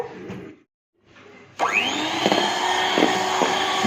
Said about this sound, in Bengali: তারপর এটাকে আমি আরও 3-4 মিনিট বিট করে নেব।